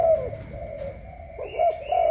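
Imported super-cooing pigeons give deep, throaty coos close by, one rolling call at the start and another near the end, with no voices over them.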